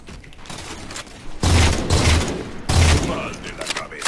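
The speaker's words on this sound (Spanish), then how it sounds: "Este es el rifle de batalla mamalón." Battle rifle gunfire in the video game Halo 4 comes as loud, close bursts of shots in two or three quick volleys, with gameplay noise and someone talking excitedly between and over them.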